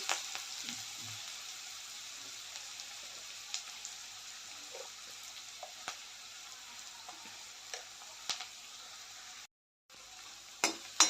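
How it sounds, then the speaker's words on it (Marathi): Chopped onion and curry leaves sauté in a pan for a ridge gourd dish, a quiet, steady sizzle with occasional light ticks and scrapes of stirring, briefly cutting out near the end. "आता कांदा थोडंसं लालसर होईपर्यंत परतून घेऊया"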